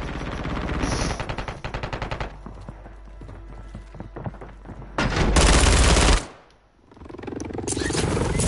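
Rapid bursts of sniper and automatic gunfire in Call of Duty Warzone, loud and close, broken by short pauses and followed by a heavier dense barrage, with little talk.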